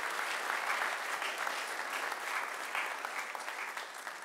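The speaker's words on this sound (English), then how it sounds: "A round of applause." Steady applause from an audience at a meeting fills the room, even and sustained throughout with no talk over it.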